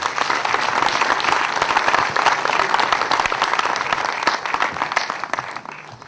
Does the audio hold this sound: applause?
yes